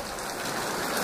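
Steady rain falls outdoors at a comic convention, a continuous, even hiss of drops on surfaces, moderately close and alone without voices.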